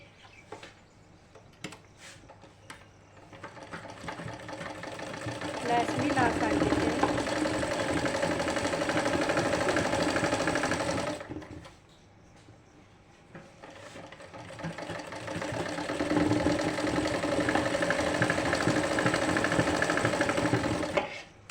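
A sewing machine stitches lace onto a bell-bottom sleeve in two steady runs of whirring, separated by a short pause with a soft rattle at the start.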